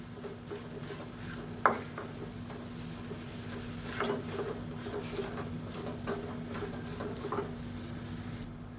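Sesame sweet filling with peanuts being stirred in a pan, soft scraping and patter strokes at an even pace, faint and close, with one sharper knock of the spoon.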